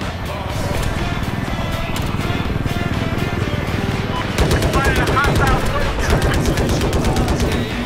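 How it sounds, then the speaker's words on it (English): Sustained automatic gunfire from a machine gun in a video game, loud and continuous across the whole stretch, with rapid bursts growing denser toward the end. "Fuck you, machine gun."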